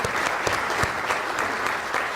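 Audience applause at an ethnic business awards ceremony, a short burst of sustained clapping from many hands with no one speaking over it.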